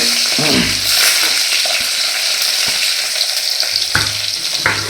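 Onions fry loudly with mustard seeds in a pan, a continuous sizzle broken by several sharp scrapes and knocks of a ladle as they are stirred.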